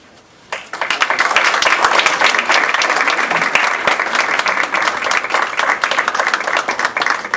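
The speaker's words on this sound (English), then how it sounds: "continue clapping." A crowd at a Toastmasters humorous speech contest bursts into loud applause after a brief quiet moment, the clapping dense and sustained, then thinning slightly near the end.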